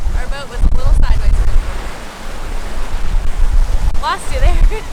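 Strong wind roars over the microphone on a sailboat under sail in a thunderstorm, with rushing water and surf below, loud and continuous, while voices call out briefly.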